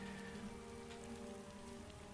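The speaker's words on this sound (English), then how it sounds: "Look at the rain!" Steady rain patters in the video game Starbound, a soft, even hiss of falling drops that stays constant throughout with no voices.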